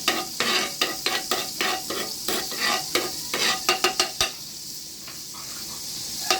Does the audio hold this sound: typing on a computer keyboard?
no